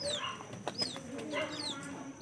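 Backyard chickens cluck softly and intermittently while feeding on scraps of pechay, faint and close with quiet background.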